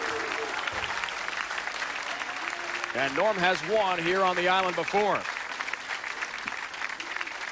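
A crowd at a 2006 PBA Columbia 300 Classic bowling event on Long Island cheers and applauds a favorite bowler in a loud, continuous roar while a commentator talks over it.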